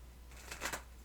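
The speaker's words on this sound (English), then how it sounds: "I'm doing this a little bit differently so you can see me shuffle." A short burst of riffling tarot card shuffle, crisp and close, rising briefly then fading over a faint steady hum.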